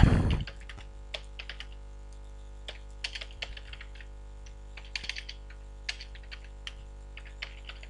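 Typing on a computer keyboard, a steady scatter of light key clicks in irregular bursts, close and fairly quiet over a constant electrical hum, with no talking.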